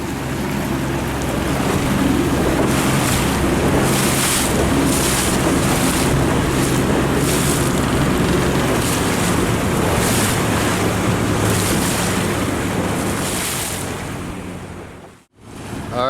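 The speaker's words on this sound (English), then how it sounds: "The wind's starting to come up, so that's always good." Strong wind roars across the microphone aboard a sailboat during a race, mixed with waves and water rushing past the hull, loud and continuous with no talk until a brief cutout near the end.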